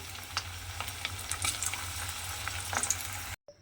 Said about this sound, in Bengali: তেলের মধ্যে দিয়ে সমস্ত পকোড়াগুলো ঠিক একইভাবে ভেজে নিতে হবে